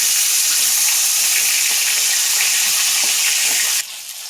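Fish heads fry in hot oil in a kadai, giving a loud, dense, continuous hissing sizzle that holds steady and then abruptly drops to a quieter level near the end.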